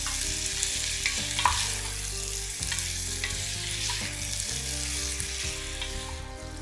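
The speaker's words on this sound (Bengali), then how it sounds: "এবার ফুল আছে তেলের সাথে মাংসগুলোকে ভেজে নিচ্ছি আনুমানিক 2 থেকে 3 মিনিট।" Marinated mutton or beef sizzles steadily in hot mustard oil, with a dense continuous frying crackle close to the pan and occasional stirring scrapes.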